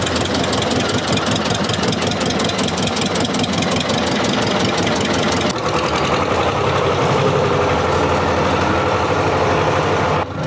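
Rotary tiller engine fitted with a new exhaust runs steadily at a loud, close idle, its fast rhythmic firing pulses continuing throughout with a slight shift in tone midway.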